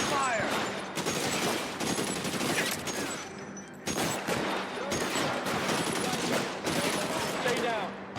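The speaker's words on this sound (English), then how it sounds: "Suppressing fire." Suppressing gunfire in LA Noire rattles in dense, continuous automatic bursts with only brief gaps, loud and close, with voices faintly mixed in.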